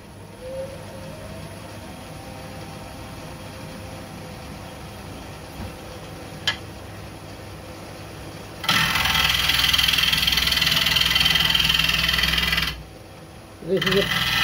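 A wood lathe switches on and runs in a workshop, a sudden broad steady whirring hum that lasts several seconds after a quiet stretch, cuts out abruptly and then starts again, with a faint voice speaking before it.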